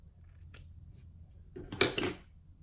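Scissors snip through crochet braid hair close to the knots, a couple of soft, short cuts near the end, close and fairly quiet with no talking.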